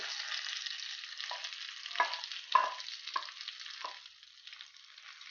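Onions, tomatoes and chopped green chillies being stirred in a hot pan, with a steady soft sizzle and several scraping strokes of a spoon at irregular intervals, close and moderately quiet.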